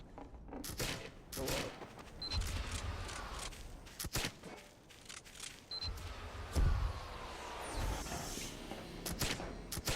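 Team Fortress 2 gunfire in irregular bursts of sharp shots and clicks, some close and loud, others farther, with game effects mixed in and no clear talking.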